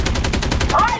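Fast automatic gunfire in a ranked shooter video game, a loud, evenly spaced burst of about ten shots lasting a second, close and unbroken.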